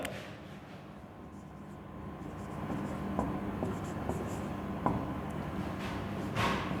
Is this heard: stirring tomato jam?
no